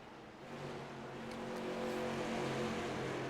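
Race cars lapping an oval track in a sim racing game, a steady engine drone that swells slightly as cars close in, moderately distant and continuous with no talk over it.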